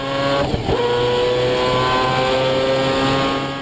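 A four-rotor billet 26B rotary engine in a Mazda RX7 revs loudly and steadily, close by, with a droning, buzzing exhaust note that holds throughout.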